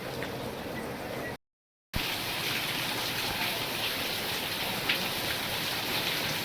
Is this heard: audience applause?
no